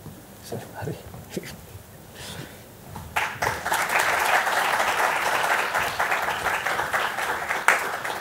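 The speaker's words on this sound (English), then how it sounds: "With a loud round of applause, let us welcome Mr. Prasad Shirgaonkar on the stage." Audience applause welcoming a keynote speaker onto the stage, starting with scattered claps, then swelling into a steady, full round of clapping from a large seated crowd that carries on to the end.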